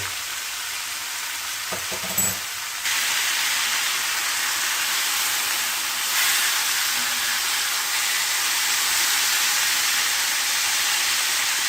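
Ribeye steak sizzling in melted butter in a hot pan, a steady loud frying hiss that runs almost unbroken, with a brief clatter near the start.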